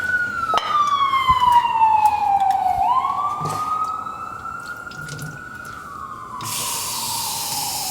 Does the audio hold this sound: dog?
no